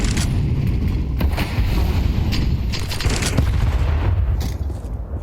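Dense, continuous gunfire from a Counter-Strike esports match between Virtus.pro and HEROIC, with rapid overlapping shots and booms forming a loud, sustained barrage throughout.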